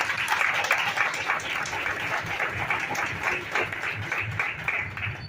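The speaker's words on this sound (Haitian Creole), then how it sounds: "Battons gros bravo pour yo." An audience claps in sustained applause, a dense, even patter of many hands that holds steady throughout, fairly loud and near, with no clear talking.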